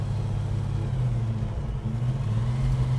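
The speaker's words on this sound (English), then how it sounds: "Listen to the exhaust." Exhaust from a 1970 Dodge Charger with a 440 V8 and four-speed manual: a steady, deep, throaty rumble heard up close, continuous over a few seconds with no speech.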